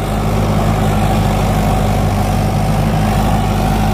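A Mahindra 475 DI XP Plus tractor engine runs at about 1600 RPM, a loud, steady low diesel drone with constant throbbing and no talk.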